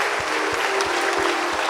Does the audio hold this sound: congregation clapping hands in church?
yes